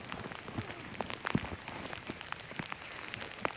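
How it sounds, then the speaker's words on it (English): Rain beginning to fall on the South Downs in East Sussex on an autumn day, a scatter of sharp, separate drops tapping close by over a soft steady hiss, with no voices. "And here comes the rain."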